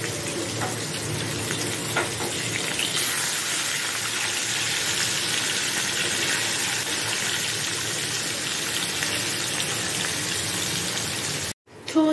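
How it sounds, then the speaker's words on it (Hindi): A second fish fries in a pan at home, giving a steady, close sizzle and crackle with a dense, even texture. It runs continuously and stops abruptly near the end. "एक फिश तो फ्राई हो चुका है, ये दूसरा वाला हो रहा है।"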